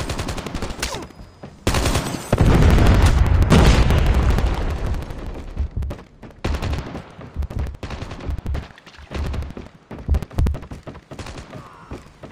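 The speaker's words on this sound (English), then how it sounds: "Predator missile inbound." A Predator missile strike in Call of Duty Mobile lands amid heavy gunfire, with a loud booming blast early on, followed by a long stretch of rattling automatic fire and scattered impacts.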